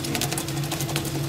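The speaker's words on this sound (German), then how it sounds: "Nun wird das Röstgut durch eine Walze in der Maschine gebrochen und von der Schale getrennt." Roller machine cracking roasted cocoa beans and separating the shells in a chocolate workshop, a steady mechanical hum with a rapid rattling clatter running continuously throughout.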